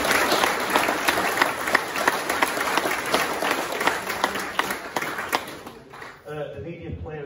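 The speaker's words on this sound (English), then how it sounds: "a nice round of applause for Chris Myers." Diners at a rugby end-of-season awards dinner give a sustained round of applause with crisp individual claps standing out, fading out at the end as a voice begins talking.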